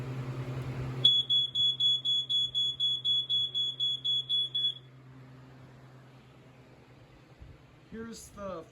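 A First Alert 83R smoke alarm sounds close by with a rapid train of about a dozen piercing, evenly pulsed beeps for several seconds, then stops, leaving quiet room hum before a brief voice at the end.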